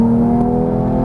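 A Porsche GT3 engine pulls hard out of a corner, a loud close steady tone that rises slightly in pitch as it accelerates, with no one speaking.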